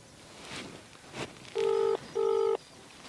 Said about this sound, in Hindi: ये बेरा पट जाए फोन मिलाने लग रहा हूँ।